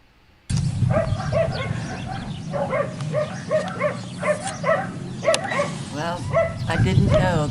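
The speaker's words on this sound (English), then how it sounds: "didn't know there was a kennel right behind me until I got here. So, and those are the dogs barking." Several dogs barking repeatedly at a kennel in Arizona, a steady overlapping chorus of barks and yips at moderate distance beneath someone talking.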